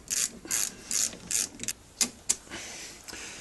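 A spanner ratchets on a brake caliper nut of a Renault Clio, giving a quick series of sharp metallic clicks in short bursts, close and dry, with brief pauses between strokes.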